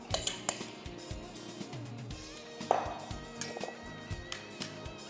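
Metal kitchen utensils knock and scrape while beef tartare is shaped in a mold, with scattered close clinks and taps and a soft rustle between them.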